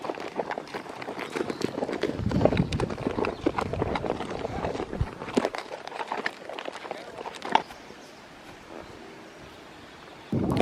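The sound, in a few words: horse hooves clip-clopping during a trail ride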